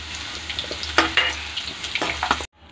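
Sliced onions fry in oil in a pan, a steady sizzle broken by a few sharp stirring scrapes, before the sound cuts off abruptly near the end.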